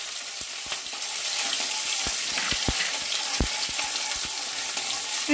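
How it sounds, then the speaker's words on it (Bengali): Diced onions fry lightly in hot oil in a pan while a Bengali cabbage and potato dish is made. A steady soft sizzle runs throughout, with scattered faint clicks and a brief knock near the end. "পেঁয়াজটাকে হালকা করে ভেজে নিতে হবে।"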